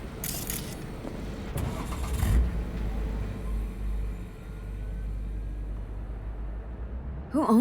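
A car in the open-world game Cyberpunk 2077 starts up with a short mechanical clunk and whir, then settles into a low, steady engine rumble as it pulls away, with a brief voice at the very end.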